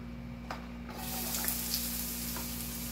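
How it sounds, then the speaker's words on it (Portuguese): Onion frying in a thin drizzle of hot oil in a pan, a steady soft sizzle that swells after the first second and holds at an even level with a few faint crackles, no talk. "só dá uma douradinha essa cebola"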